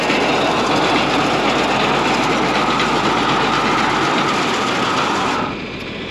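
A grain auger driven off a tractor's PTO with the tractor idling, a steady loud mechanical roar and rattle that drops off sharply near the end.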